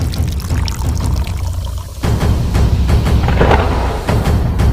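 Tap water pours steadily and loudly while dishes are washed by hand in cold winter water, a continuous splashing rush close by with small clatters in it.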